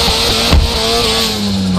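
Car engine in the DRIFT21 video game revving hard during a drift, a steady loud whine with rising and falling pitch and a brief throttle burst partway through, with no talking.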